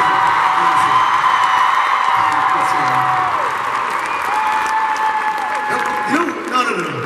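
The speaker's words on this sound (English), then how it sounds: "You know who deserves a big round of applause, though, is our crew" A concert crowd on a band's tour applauds and cheers for the crew at the finale, a broad wash of clapping with whoops and held musical tones beneath, loud and continuous.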